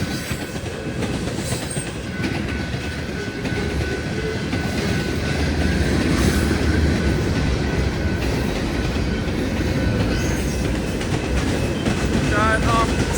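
CP 7056 and KCS 4687 trains rolling past the Birch Ave level crossing in Maple Lake, MN: a loud, steady rumble of railcars with wheel clatter throughout and a brief faint squeal near the end.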